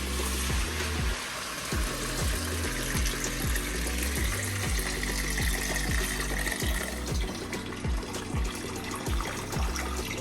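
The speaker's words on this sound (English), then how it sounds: "Let's add the water now." Water pours steadily into an Instant Pot for Trinidad-style chicken corn soup, a continuous close hiss and splash heard over a rhythmic background music beat.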